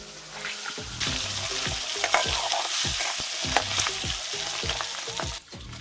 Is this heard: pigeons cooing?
no